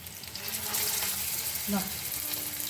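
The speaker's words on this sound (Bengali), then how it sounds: "এটা কিন্তু পুরোটা সর্ষের তেলে ভাজবো এবার আস্তে আস্তে বড়াগুলো দিতে থাকি" Taro kebabs fried in mustard oil, a steady close hiss and sizzle from the pan under light voice sounds, with a brief spattering burst partway through.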